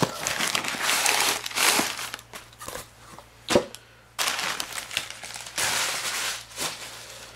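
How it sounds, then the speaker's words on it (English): A package for a Todd Begg "Beggatti" knife being torn open by hand, with loud crinkling, ripping and crumpling of paper and plastic in bursts, separated by short pauses. "I'm just going to rip it open for you"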